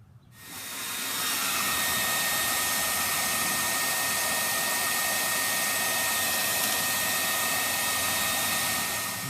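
A heat gun shrinks tubing on wiring for a custom motorcycle blinker, giving a steady, loud blowing hiss that starts abruptly and holds unchanged throughout.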